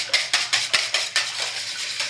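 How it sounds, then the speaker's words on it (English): A utensil beats pancake batter of applesauce and eggs in a bowl, giving a quick rhythmic series of about eight close clinking, scraping strokes against the bowl. "So now we'll mix it all together."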